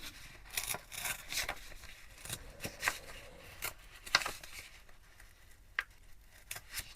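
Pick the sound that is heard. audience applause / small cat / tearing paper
tearing paper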